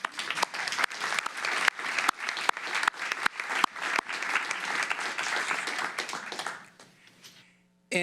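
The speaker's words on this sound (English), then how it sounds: "we'd like to get a round of applause for the Oregon Youth Men's Ensemble." Sustained applause from an audience at a county government presentation, honoring a youth men's choral ensemble; many hands clap steadily with a few sharper claps standing out, then the clapping fades to near silence before a voice begins.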